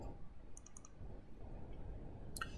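Computer mouse clicked while moving through a software installer, a few faint, sharp clicks in pairs with one more near the end, against a quiet room hum.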